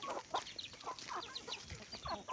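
Several chickens cluck and chatter close by in quick, overlapping bursts, fairly soft, with no voices.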